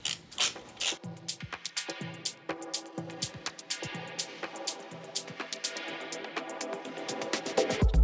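Lug nuts on an Acura being torqued with a ratcheting wrench, giving a run of quick mechanical clicks and clacks in bursts, fairly close and moderately loud, with no talking.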